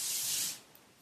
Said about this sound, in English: The nice thing about this spray adhesive is that you can redo it.